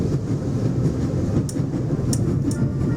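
A train rattles along in the adventure game The Raven - Legacy of a Master Thief, a loud steady rumble with faint rhythmic clicks running throughout, no voices.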